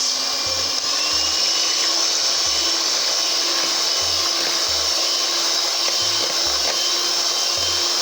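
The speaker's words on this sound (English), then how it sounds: "Using our hand whisk, we'll whisk our egg white at a high speed." Electric hand whisk beating egg whites at high speed for a Black Forest cake, a constant close whirring motor drone with faint rhythmic knocks of the beaters against the bowl.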